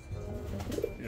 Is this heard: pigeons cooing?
yes